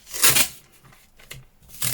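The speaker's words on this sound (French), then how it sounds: "On va déjà mettre le scotch tout autour" Short crackling rips of adhesive tape being pulled off a roll and applied around a craft box, three quick bursts spaced apart, close and fairly loud.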